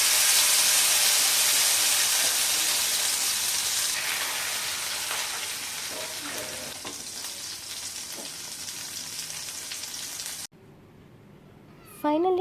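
Spicy fish fries in a pan with a dense, close sizzle that slowly fades over about ten seconds, then cuts out to near quiet before a brief tonal sound at the end.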